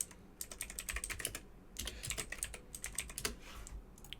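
Fingers type on a computer keyboard while entering an Excel formula, giving quick, light key clicks in two bursts separated by a short pause, close and fairly quiet with no voices.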